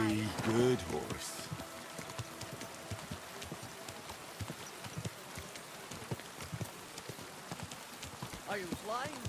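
Horse hooves clip-clop at a steady walking pace in the video game Kingdom Come Deliverance 2, with a rain-like patter and a brief voice near the start.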